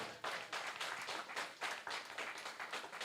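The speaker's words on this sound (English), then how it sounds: "Let us give him a round of applause again." An audience at the 12th International Garifuna Conference, held at the UWI Global Campus in St Vincent and the Grenadines, applauds. The clapping is steady, dense and sustained throughout, with no talk over it.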